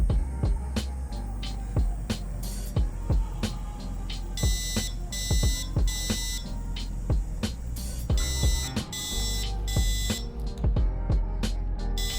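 An Arduino fire alarm sounding its Code 3 tone: loud, sharp electronic beeps pulsing in a regular rhythm, with bursts of shrill high-pitched buzzing between them, continuous and close with no talk.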